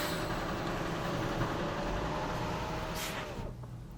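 A large truck rolls past right beside a Tesla Model Y Juniper facelift through its opened window. A low, steady engine and road rumble holds for several seconds, then fades as the truck moves off. No one speaks.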